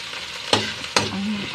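Onion, garlic and tomato sauté in a hot pan, a steady sizzle broken by two sharp stirring scrapes close to the ear.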